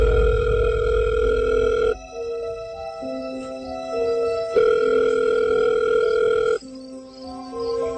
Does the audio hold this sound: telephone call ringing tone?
yes